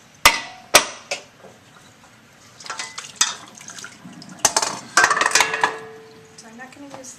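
Metal potato pan with its lid locked on, tipped to drain: sharp clanks of lid and pot, then a splashing rush of water pouring off, with rattles and knocks of the pan, close and fairly loud.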